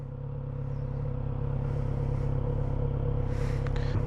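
Steady, close engine rumble from a brand-new Kawasaki Z900RS motorcycle on a test ride, holding an even drone with a slight rise and a few light clatters near the end.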